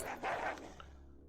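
A manhunter pack of huskies in RimWorld barks, a couple of quick close barks that end abruptly into silence.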